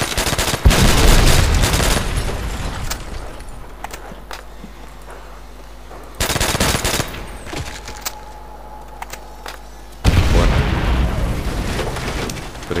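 A grenade explodes in a Call of Duty: World at War zombie round, heavy booming bursts that cut in loudly and decay into rumbling noise, with a quieter stretch of footsteps and ambience between them.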